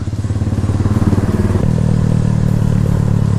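A Keeway CR152 motorcycle engine being revved close by, with rapid rhythmic pulsing throttle blips that settle into a steady, loud idle-like drone.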